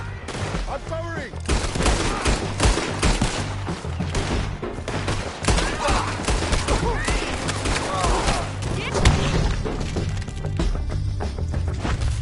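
Dense gunfire from Red Dead Redemption 2 crackles in rapid, overlapping shots through a chaotic firefight, loud and close, with voices shouting beneath it.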